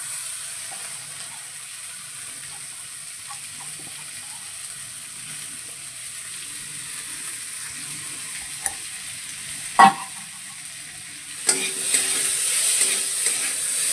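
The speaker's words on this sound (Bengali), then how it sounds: "এগুলোকে একটু ডালিয়ে আর ডালটাকে ভেজে নেওয়া।" Lentils and vegetables fry in a pan, a low steady sizzle through most of the stretch, with a sharp clatter near the middle and louder frying or stirring near the end, no talk.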